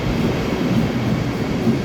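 A train rumbles steadily at a station, a dense low roar of rolling carriages with no distinct clicks, loud and close for a couple of seconds.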